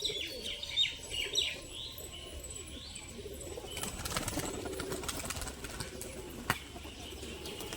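A female pigeon gives faint chirps and soft coos, mixed with light wing flutters and one sharp clap near the end, fairly close amid low background rustle.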